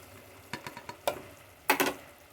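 Dried fish and spices with chili powder, turmeric and home-ground curry paste being stirred and sautéed in a pan for karuvaadu kuzhambu, giving a soft sizzle with a few clustered scraping stirs, faint and close.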